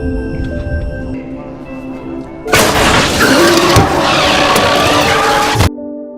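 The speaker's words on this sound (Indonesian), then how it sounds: "tiba-tiba mobil yang dikendarai Joe ini mengalami kecelakaan" Car crash after a tire is shot in a desert thriller film: a steady engine hum, then a sudden loud impact and a few seconds of crunching, scraping wreckage before it cuts off abruptly.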